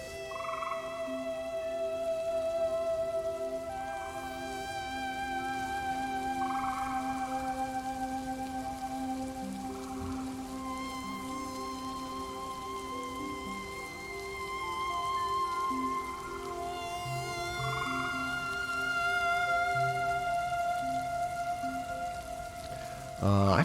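A rain sound effect hisses steadily beneath a looping Moog Sub37 synth lead played through shimmer reverb, with sustained tones rising and falling over the soft, continuous patter of rain.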